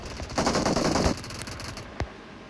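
Automatic gunfire from the mobile shooter game PUBG Mobile, a dense rapid burst followed by a few scattered single shots, loud and close with no talk over it.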